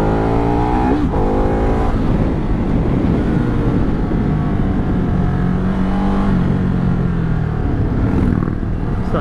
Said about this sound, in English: This bike is definitely better for long sweeping corners.